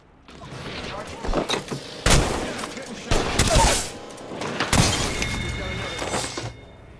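Gunfire in an Apex Legends match, several sharp loud bursts and volleys with shattering impacts spread over a few seconds, close, with game noise between.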